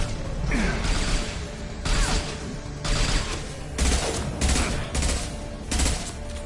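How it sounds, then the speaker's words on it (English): Repeated weapon fire from an impact shot in the video game Mass Effect, a series of loud, punchy bursts roughly every second over a dense, noisy combat backdrop. "Firing an impact shot."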